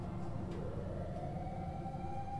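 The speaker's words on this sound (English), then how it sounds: "I hear the sirens." A faint, rising siren wails in the distance in the horror game Chilla's Art: The Karaoke, over a low rumbling background with no talk.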